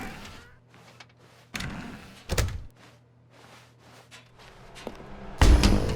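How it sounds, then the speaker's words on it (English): Door sounds from the video game The Stanley Parable: a few sharp thunks and clunks as a door is opened, separated by quiet gaps, ending in a louder heavy knock. "they entered the door on the left."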